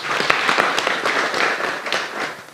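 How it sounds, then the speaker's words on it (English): Audience applause at a Women Unlimited event, a dense, steady patter of many hands clapping close by for the whole short stretch, with no voices over it. "Can you give her a clap?"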